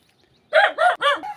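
A rooster crows loudly and close by, a single drawn-out call in several rising and falling segments.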